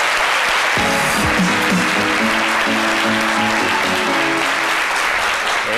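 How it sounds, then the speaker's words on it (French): Loud sustained audience applause greets a guest on a French-language talk show, a steady broad clapping wash lasting throughout while a musical jingle with low tones plays beneath it. "on va applaudir très fort Jean-Michel Honat."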